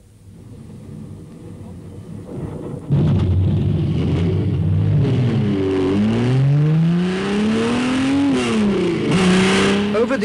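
A 1957 Maserati Grand Prix car driven by Fangio at the Modena Autodrome fires up after a quiet start, its loud engine rumbling and then revving up and down through gear changes, close and dominant.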